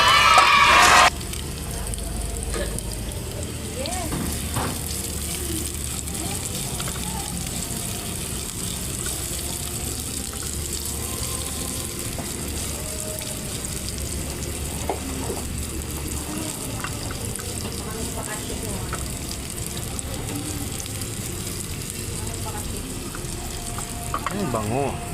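Onion, ginger and garlic sauté in a pan with a loud, continuous hissing sizzle. A brief clatter opens it, and the hiss holds steady, close and dense throughout.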